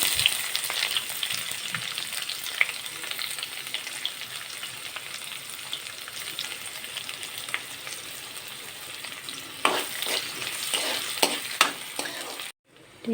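Onions sizzle steadily in hot oil in a pan with dried red chilies and bay leaf for an Assamese chana dal, with occasional louder stirring scrapes near the end and no talking.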